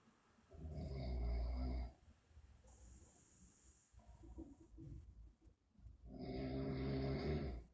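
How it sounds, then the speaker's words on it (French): Loud, close snoring in two long rasping bursts separated by a quieter stretch of breathing and faint murmured voices. "Qui ronfle?"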